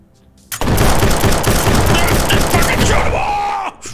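Gunfire in the video game HYPE PROTOTYPE: a sudden, loud burst of rapid automatic shots starts abruptly and rattles on for about three seconds before cutting off, close and dominant.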